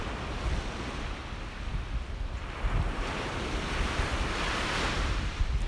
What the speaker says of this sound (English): I love how loud the water is today.